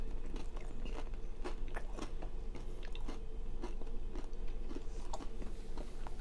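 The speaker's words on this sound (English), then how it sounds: "I'm just eating and enjoying, so just a regular mukbang." Close, crisp crunching and chewing of Buffalo Wild Wings chicken wings, with steady bites and wet mouth sounds continuing throughout and no speech.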